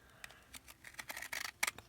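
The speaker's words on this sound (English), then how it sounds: "if you have decorative scissors from back in the day" Decorative craft scissors click and snip in a quick, irregular series of sharp close taps, faint and alone.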